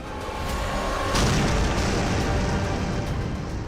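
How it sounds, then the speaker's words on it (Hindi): A deep explosion from a drone warhead striking armored vehicles bursts out after a low rumbling lead-in, then rolls into a sustained, loud roar of booming debris and echo that fades only slowly. "यहां होने वाले धमाके इसकी सिर्फ एक मिसाल है।"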